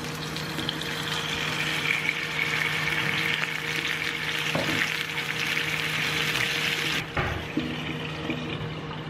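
Pork ginger shougayaki sizzles loudly and steadily in a pan after the sauce goes in, a close, dense frying hiss with a brief clatter near the end and no talk.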